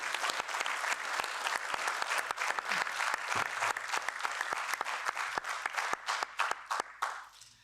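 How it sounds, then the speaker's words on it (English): Audience applause at a European Parliament event, a sustained round of clapping with crisp individual claps audible throughout, tapering off at the end. "I just want to give those guys a round of applause for all the hard work they do"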